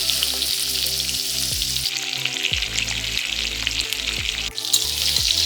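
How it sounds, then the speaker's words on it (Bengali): A fish head sizzles loudly in hot oil for a Bengali muri ghonto curry, with steady close crackling and spitting that rises in short surges. "তেলটা গরম করে ওর মধ্যে আমি মাছের মাথাটা ছেড়ে দিচ্ছি।"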